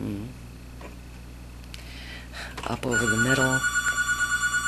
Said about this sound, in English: I'm sorry the phone is ringing.